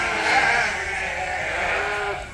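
A Dorset ewe in a barn gives a sustained, wavering bleat close by, heard alone against soft barn background.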